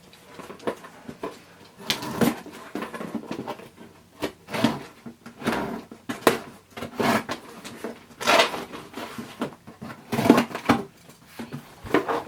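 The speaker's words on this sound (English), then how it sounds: "I've got the tape off." Tape is peeled off a product box for a Coach mini camera bag and the box is handled and opened, giving a series of close, irregular scraping and rustling bursts with short pauses between them.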